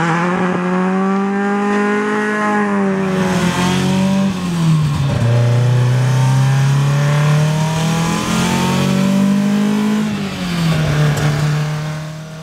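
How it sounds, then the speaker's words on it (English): A Nissan Bluebird's Datsun engine revs hard and loud toward 6,500 RPM, its pitch climbing, dropping and climbing again in repeated throttle sweeps, with no voices. "The Datsun engines sound awesome."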